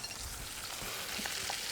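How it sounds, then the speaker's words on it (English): Whole fish sizzling in a big frying pan over medium-high heat, a steady quiet hiss of frying with faint crackles, close and alone. "You wanna hear a nice sizzle."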